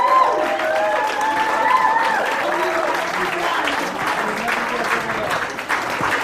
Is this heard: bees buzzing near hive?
no